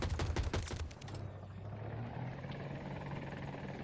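Attack helicopter in the video game Battlefield 2042, rotor thudding loudly under a brief burst of rapid gunfire, then settling into a steady droning hum.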